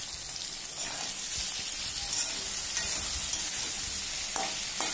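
Chopped tomato hits lightly fried potatoes with cumin in a pan for ghugni, producing a loud, steady, continuous sizzle and frying hiss with occasional stirring scrapes, no voices.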